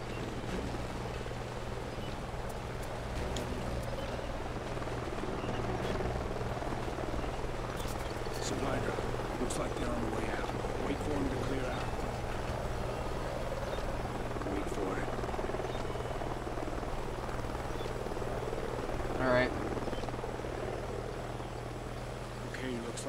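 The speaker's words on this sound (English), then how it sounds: "Sounds like a chopper's up ahead of us." A helicopter flies over a canyon in Call of Duty: Ghosts, a steady low rotor thrum and buzz holding throughout at moderate distance, with voices talking over it.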